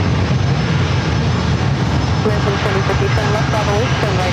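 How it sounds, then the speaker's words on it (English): Navy aircraft engines roar steadily at San Diego airport, a loud continuous broadband rumble, while a voice speaks over it with radio chatter in the later part. "There's some Navy aircraft."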